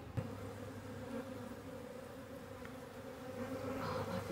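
Honey bees hum in a steady, dense drone at a hive on a bee co-op, heard close and fairly soft with no pauses and no voices.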